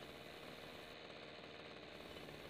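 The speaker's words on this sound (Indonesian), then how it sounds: "Itu terlihat saya lagi menghidupkan mesin sprayernya atau mesin semprotnya." A motorized crop sprayer's small engine runs steadily, a faint, even mechanical drone with a rapid knocking texture, unbroken and alone with no voices.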